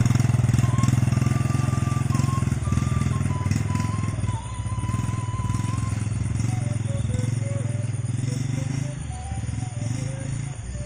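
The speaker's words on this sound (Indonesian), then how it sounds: "motor aja sampai gak sanggup naik" A motorcycle engine labors and revs steadily while climbing a steep, rough mountain village road in rainy conditions, loud and continuous throughout, with a rising and falling whine over a low rumble.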